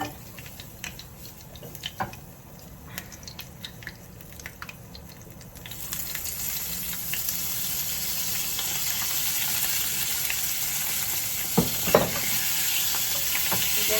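Food fries in a pan, a soft crackling sizzle at first that swells into a louder, steady hiss partway through, with a few sharp clinks and stirring noises near the end.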